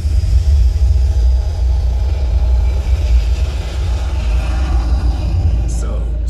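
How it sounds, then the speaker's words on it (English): Deep, loud rumbling roar of a jet engine played through a cinema surround sound demo, a sustained heavy low-frequency thunder that holds steadily throughout. "to the thunder of a jet engine."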